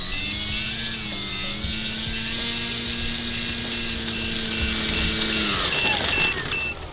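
An Origin Hobby Wilga-2000 RC plane taxis on the ground with flaps down, its small electric motor giving a steady, close high-pitched whine that rises briefly near the end.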